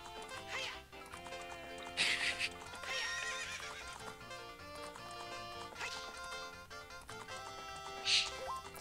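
Horse neighing in the Zelda Ocarina of Time video game, several loud whinnies over steady game music with hoofbeat clip-clops.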